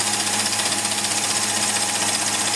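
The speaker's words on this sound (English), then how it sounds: "that's a fly cutter. That'll take your finger off quite easily." Steady high-pitched machining whir and hiss as a fly cutter faces a BSA Fury 350 cylinder head on a mill, continuous and close throughout with no voices.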